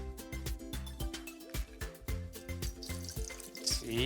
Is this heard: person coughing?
no